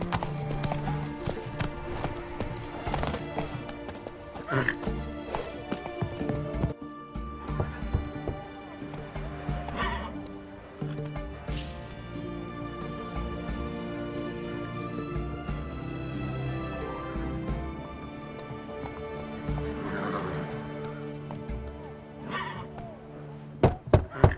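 Roach the horse from The Witcher 3 clip-clops with steady hoofbeats over a dense in-game soundscape with music, with occasional louder thuds and no talking.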